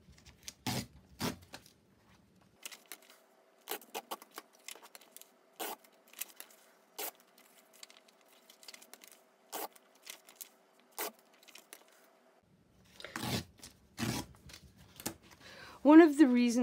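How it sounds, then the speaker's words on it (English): Paper pages from a paper mailer envelope being torn by hand to fit a journal cover, heard as a string of short, crisp rips spaced unevenly and close by, with a voice talking briefly at the end. "I'm going to rip these to fit."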